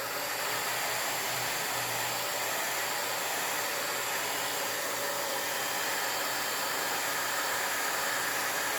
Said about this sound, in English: I'm going to use the heat gun, and we're going to dry this up